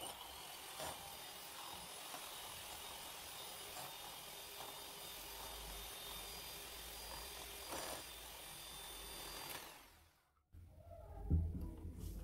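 Eggs being beaten for an apple and nut tart, a steady continuous whirring mixer drone running for about ten seconds, then cutting out into near silence.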